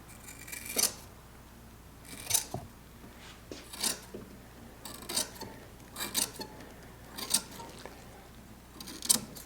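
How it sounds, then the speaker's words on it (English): Scissors trim fiberglass cloth for a boat hull with about eight separate crisp snips at an unhurried pace, quiet and close, over a faint background hiss. "So now we're going to trim that a little bit tighter and hope we can get it to conform."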